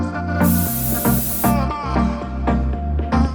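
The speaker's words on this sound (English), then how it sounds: "I'm just gonna spray it with hairspray" Hairspray sprayed from a can onto hair ahead of combing with a boar bristle brush, a bright hissing burst lasting about a second, heard under steady background music.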